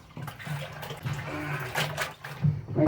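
Water poured into a batch of muscadine brandy must with dissolved sugar, a splashing, gurgling pour in uneven surges, close up and fairly soft, with no talking.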